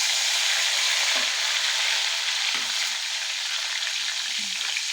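Onions and green chillies fry in a hot pan with a loud, steady sizzle, broken by a few soft stirring knocks, close by and with no talking.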